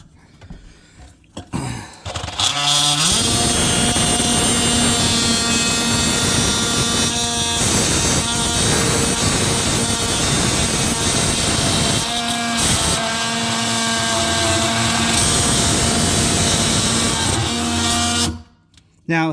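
A power tool cuts through a chrome nut on a plumbing fixture, a loud, steady whining grind that runs for about fifteen seconds with a brief dip midway, then stops abruptly.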